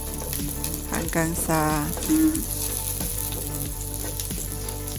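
Onions sautéing in a pan for ginataang kamansi, a steady close sizzle and frying hiss with stirring clatter, while someone speaks briefly over the cooking.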